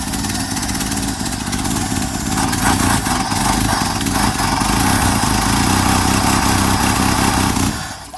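A 1963 Chevy Nova's 194 engine running steadily with an exhaust leak, a loud, raspy, continuous idle that swells slightly before dropping off near the end.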